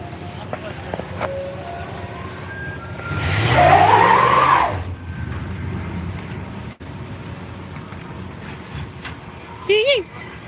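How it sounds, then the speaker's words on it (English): An old Ford peels out with a short burst of tire squeal and engine roar lasting about two seconds, set among outdoor background noise with people talking nearby. "That old Ford will peel wheels."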